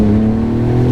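Porsche 911 GT2 RS with 777 horsepower driving hard on a tight, narrow back road, its engine a loud, steady, close drone with strong low harmonics throughout.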